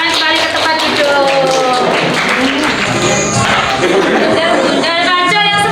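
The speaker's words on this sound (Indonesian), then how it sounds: "Oke, tepuk tangannya." Classroom audience clapping for a student after a folk-tale presentation, a dense patter of hands that runs steadily for several seconds with voices and chatter mixed over it.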